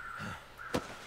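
Caws from crows in a canyon in The Long Dark sound faint and distant over low wind, then one sharper, closer caw follows.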